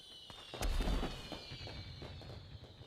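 Cartoon fireworks explode at a celebration: a sharp crack followed by a booming burst, then a string of softer crackling pops over a steady high-pitched tone, with no speech.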